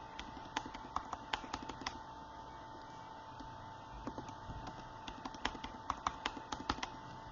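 A password is typed on a computer keyboard as two bursts of faint, close key clicks separated by a pause.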